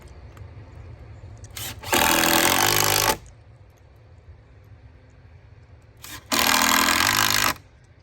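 A power tool drives 3-inch screws into wooden rafters in two loud, steady bursts of about a second each, separated by a quiet stretch.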